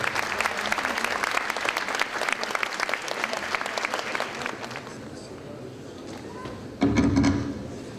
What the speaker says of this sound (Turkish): Devlet Bakanı Sayın Mehmet Ali Şahin alkışlarınıza davet ediyoruz efendim.